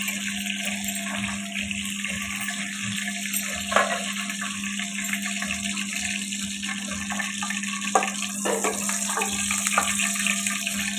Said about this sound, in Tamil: எண்ணெய் காஞ்சதும் ஒரு 2 வெந்தயம் போட்டுக்கலாம். கடுகு போட்டுக்கலாங்க. கடுகு பொரியட்டும்.